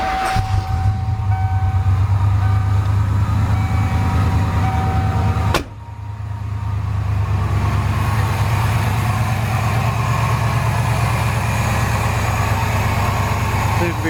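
A freshly repaired vehicle engine idles loudly and evenly with a steady low rumble, briefly dipping once as it settles back into a smooth, continuous run.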